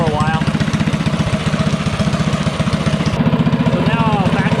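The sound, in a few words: engine idling with VM22 Mikuni carburetor warming up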